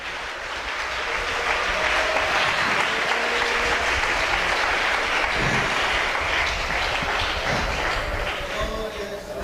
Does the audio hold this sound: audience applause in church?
yes